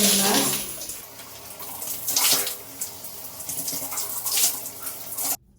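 Shower water running over hair and scalp while rinsing out cleansing creme, a steady broadband splashing rush that swells and eases as hands move through, then cuts off abruptly at the end.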